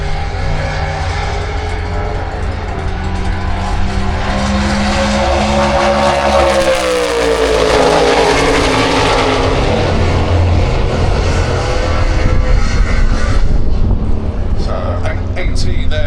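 Pro Doorslammer drag racing cars on nitrous launch and roar down the strip, a loud sustained engine blast with a rising and falling pitch sweep, heard from the side of the track with crowd noise around.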